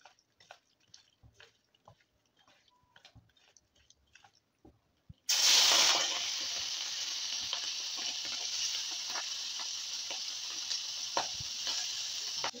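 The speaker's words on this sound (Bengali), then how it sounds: "এবারে আমি চিংড়ি মাছটা কড়াইয়ে দিয়ে দেবো।" Prawns dropped into hot oil in a wok set off a sudden loud burst of sizzling after a few quiet seconds of light clinks, then settle into a steady hiss of frying.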